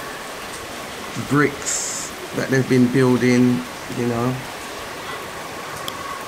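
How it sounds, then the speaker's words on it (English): Steady rain falls during Gambia's rainy season on a building site where bricks are covered up. It makes a constant hiss throughout while someone talks over it. "Yeah, we've had a lot of rain."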